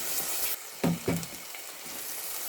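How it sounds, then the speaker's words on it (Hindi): Milk curry (doodh ka salan) being fried and stirred in a pan, a soft continuous sizzle broken by two or three louder scraping strokes of a spoon near the middle, with no talking. "अभी भी हम इसे मुसलसल बहुत अच्छे से चलाते हुए भूनेंगे"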